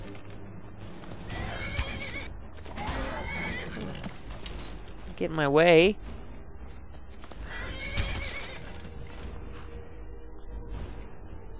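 A horse in the Skyrim video game gives a loud whinny with hoofbeats clip-clopping nearby, mixed with game sound effects while someone talks over the action.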